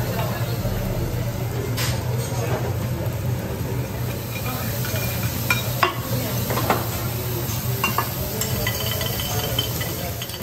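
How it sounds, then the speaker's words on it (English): Fried rice sizzling on a Japanese hibachi grill in a restaurant, a dense steady hiss with scattered metal spatula clicks, heard amid loud room noise and background chatter. "Making that fried rice."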